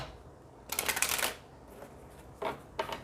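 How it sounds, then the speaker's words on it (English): Two quick bursts of tarot card shuffling, a longer riffle followed by a short pause, then two brief flicks of cards, close and crisp. "Let me do a shuffle, okay?"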